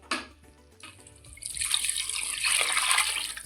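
About a liter of water is poured into a pressure cooker holding nonbu kanji rice porridge with coconut milk; a brief clank starts it, then a steady splashing stream builds and continues without talk.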